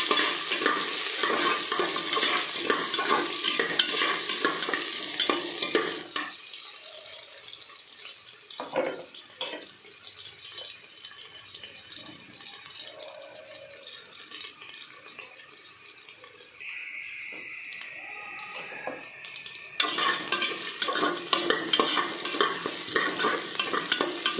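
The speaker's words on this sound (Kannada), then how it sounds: "ಒಂದು ಸ್ವಲ್ಪ ಆನಿಯನ್ ಹಾಕ್ಕೊತಿದ್ದೀನಿ. ಇದನ್ನು 1 ನಿಮಿಷ ಫ್ರೈ ಮಾಡ್ಕೊಳ್ಳಿ." Onion frying in oil with mustard seeds and curry leaves for a lima bean sambar, a loud crackling sizzle with stirring that drops away to quiet kitchen clatter midway, then returns strongly near the end.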